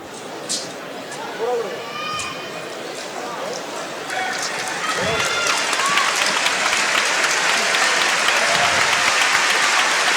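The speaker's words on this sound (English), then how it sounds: "Big applause here in Milan." Spectators at the World Kendo Championships men's team final in Milan break into applause that swells and stays loud, a dense crowd clapping with a commentator talking over it.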